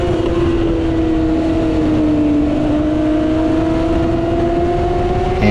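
Motorcycle engines at a race start at Chuckwalla during an amateur middleweight round, a loud, steady high-pitched engine drone that slowly rises in pitch as the bike accelerates, with no talk.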